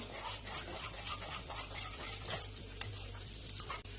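A pot of thickening milk for kharvas stirred continuously, a soft steady scraping and bubbling with faint clinks of the spoon against the pot, quiet and close, with no talking.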